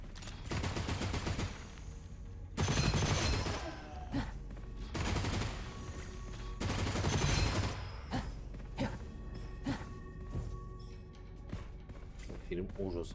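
Heavy gunfire from the video game Gunfire Reborn comes in loud, repeated bursts of rapid shots with sharp impacts between them, and a voice talks over parts of the action.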